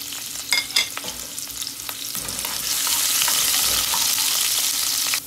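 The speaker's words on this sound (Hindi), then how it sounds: "ऑयल गर्म हो गया, सबसे पहले मैं इसमें राई डाल दूँगी, ये हल्की होगी, इसके बाद ज़ीरा और ये सारी दाल सब डाल दूँगी मैं" Mustard seeds, cumin and dal tossed into hot oil for a masala aloo dosa filling, starting with sharp crackling pops and scraping stirs, then swelling into a loud, steady, close sizzle with no talking.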